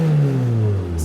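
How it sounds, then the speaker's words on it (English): Toyota MR2 Spyder with a turbocharged 2ZZ-GE engine and the catalytic converter removed, revving quickly and freely: a loud, close engine note that climbs briefly then falls away. "That's a very quick rev."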